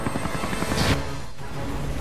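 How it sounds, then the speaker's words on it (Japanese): A helicopter in the video game Biohazard 6 thrums with a dense rotor roar that swells briefly, then settles into a steady drone as it pulls away. "ヘリが退却。"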